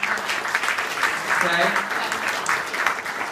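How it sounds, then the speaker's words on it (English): A crowd claps steadily at an awards ceremony, a dense, sustained round of applause from an indoor audience lasting the whole moment, with a brief voice speaking over it. "So let's have a regular applause right now."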